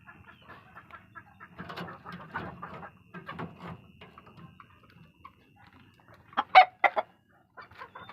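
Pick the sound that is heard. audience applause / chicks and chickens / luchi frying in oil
chicks and chickens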